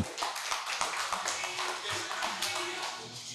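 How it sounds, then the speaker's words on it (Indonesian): Audience applause at an evening event greeting a speaker, a dense patter of clapping lasting throughout, moderately loud with broadband taps and some crowd murmur. "Boleh tepuk tangan buat Akbar."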